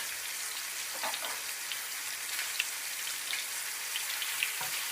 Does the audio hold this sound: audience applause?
no